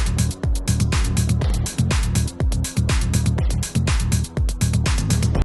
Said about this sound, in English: I repeated the same cello sample or bass sample from the classical part.